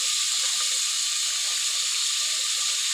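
Cucumber and mixed vegetables frying in oil for cucumber sambar: a steady, loud, bright sizzling hiss that runs continuously without pause, with no voices.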